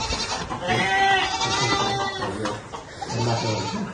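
Goats in a goat shed at a polytechnic school bleat loudly and continuously, several overlapping voices close by.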